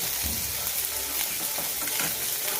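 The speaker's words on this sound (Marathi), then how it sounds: "कांदा मिरची शेंगदाणे छानपैकी असे परतून घ्यायचे" Onion, chili and peanuts roasting together in a pan produce a constant close sizzle with light stirring scrapes, steady and unbroken, with no speech.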